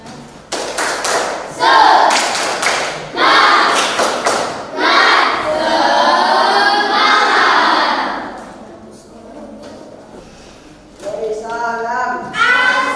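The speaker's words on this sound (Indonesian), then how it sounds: "Tepuk semangat, tepuk semangat." A classroom group performs the rhythmic tepuk semangat clapping game: sharp claps in quick patterned bursts alternate with loud voices chanting in unison, close by, with a brief quiet gap before a final chant.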